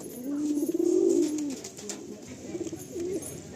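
A pigeon kept among fancy flying breeds coos nearby in two soft, throaty bursts, the first longer and louder, the second shorter, with faint background hiss between.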